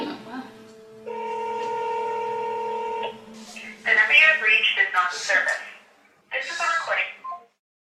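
A telephone rings out with a steady two-second electronic ring tone after a short dial sound, then voices speak briefly in a quiet room between further rings.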